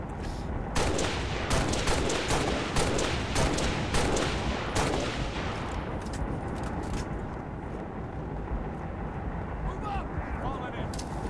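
Gunfire in Halo: Reach, a rapid volley of close shots for several seconds that thins into a steady rumbling battle ambience.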